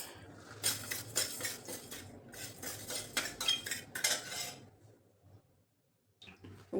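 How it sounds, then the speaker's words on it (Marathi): Urad dal stirred as it dry-roasts in a pan, a spoon scraping and clinking against the metal in quick, uneven strokes, close and fairly loud, then falling quiet near the end. "उडीद डाळ पण मस्त भाजली"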